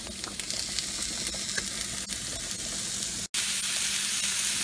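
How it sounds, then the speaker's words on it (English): Onions caramelizing in a pan for a venison sloppy joe dish give a steady, close, loud sizzle that hisses evenly throughout, broken once by a very brief drop to silence near the end before resuming. "we've added the onions, and now we're just going to let them caramelize, get nice and brown and soft"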